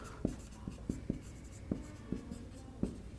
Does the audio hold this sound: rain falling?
no